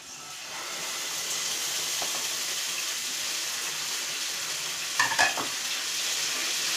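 Ground spice paste for a Deepawali leghiyam sautéing in sesame oil, a steady soft sizzle throughout with a brief clatter of stirring near the end, close and alone without talk.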